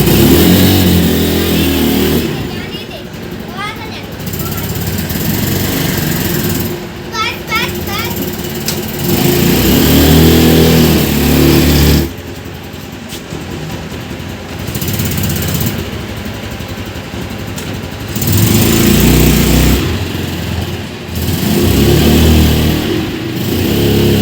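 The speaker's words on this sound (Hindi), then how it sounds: "बाहर गाड़ी निकाल रहे हैं।" A car engine revs and idles as the vehicle is driven out, loud and close with a rising and falling drone, while people talk over it throughout.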